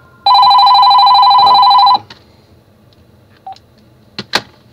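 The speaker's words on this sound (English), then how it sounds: "That was the phone." A telephone rings once in a Minecraft game, a loud electronic two-tone trill held for nearly two seconds, followed by faint scattered clicks and taps.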